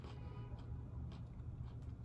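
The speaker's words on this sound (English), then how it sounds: "I'm gonna be chewing the whole time" Someone chews food close to the microphone, faint moist crunches and bites repeating irregularly over a low background hum, with no talking.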